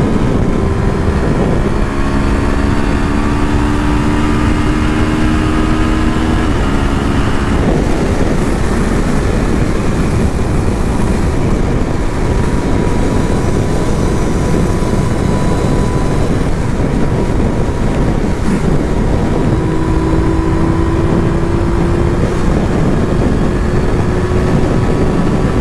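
Steady loud engine drone and wind rush from a moving 2020/21 Yamaha Tracer 900 GT sport touring motorcycle, with shifting engine tones rising and falling throughout.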